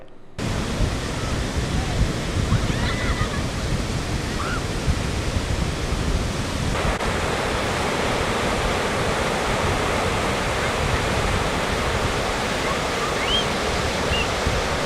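Storm-driven sea waves rush fast onto the beach at Karwar during unsettled weather, a loud, steady broadband roar of surf that runs unbroken throughout.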